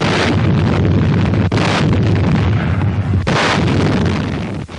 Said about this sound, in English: The bombardment was heavy while it lasted